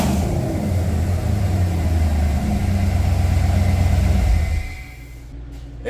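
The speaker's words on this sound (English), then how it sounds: "Like I said, it just sounds like metal on metal when you fire it up. It idles and revs real good" A Ford SVT project truck engine runs steadily with a low rumbling idle and a harsh metallic, metal-on-metal quality, then the engine note drops near the end; no talking.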